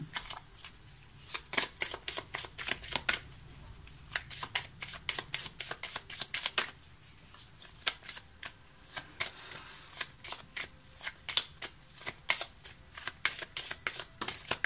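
Tarot cards being shuffled and drawn by hand, a long run of quick, close riffling snaps and soft slaps in a steady uneven rhythm, with only faint background.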